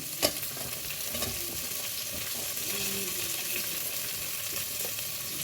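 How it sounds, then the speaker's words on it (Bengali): Chopped onion and whole garlic cloves frying with chicken in a pan give a loud, continuous oily sizzle and hiss that stays steady from start to finish, with no voices. "আর যে গোটা রসুন রেখেছিলাম সেই গোটা রসুনগুলো দিয়ে দেবো। আবার খানিকক্ষণ ভেজে নেব।"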